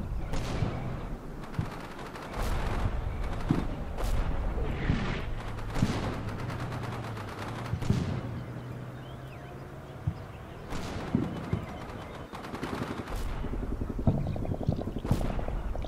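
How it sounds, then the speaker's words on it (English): Scattered mortar blasts and rifle and machine gun fire from a battle in the PC war game Combat Mission: Shock Force 2 with British forces, irregular cracks and thuds at moderate distance under a low rumble, with no talk. "Where's all that mortar fire coming from?"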